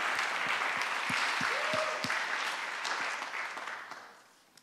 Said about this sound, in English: Another round of applause for Liam, because I think that was pretty special.